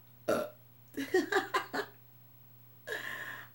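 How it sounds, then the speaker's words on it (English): A burp after drinking Rolling Rock beer: one short belch, then a rapid run of four or five choppy burps, and a longer drawn-out one at the end, all close and fairly loud over a low steady hum. "Rolling Rock definitely gives you the burps."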